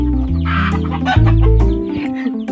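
Brooding hen clucking up close, a run of low throaty clucks and grumbling calls, loud and continuous with no talk.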